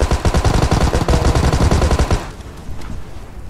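Rapid automatic gunfire from a PUBG Mobile street fight rattles loudly in a fast, unbroken burst for about two seconds, then gives way to quieter, scattered shots.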